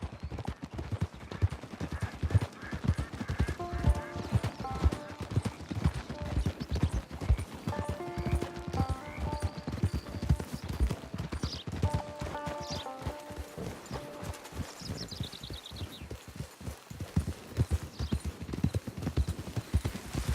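Horse hooves clip-clop steadily and rhythmically in the Red Dead Online game, a continuous run of close hoofbeats with brief melodic music tones and faint ambient sounds layered over them.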